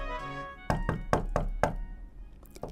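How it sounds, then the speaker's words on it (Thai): Five solid knocks land on a door in an even rhythm, close and resonant, in an animated Thai children's story, followed by a brief pause and another tap. "จากนั้นเจ้าแมวก็วิ่งตุ๊บตุ๊บตับตับขึ้นไปที่ชั้นบนไปเคาะประตู"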